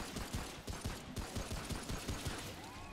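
Rapid gunfire in a shooter video game, a steady stream of quick, even-paced shots that sounds fairly distant and muffled, alone without talk.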